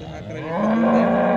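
A single loud, drawn-out cow moo close by at the Modnimb cattle market, low and steady, rising slightly in strength as it continues.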